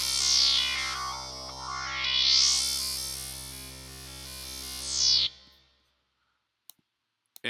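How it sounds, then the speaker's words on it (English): A pulsating synth bass from the Shark's Trap Reimagined kit plays in FL Studio, a sustained buzzing tone whose filter sweeps up and down several times before it cuts off abruptly, followed by near-silence and a few faint clicks. "This one is also from Shark's Trap Reimagined kit"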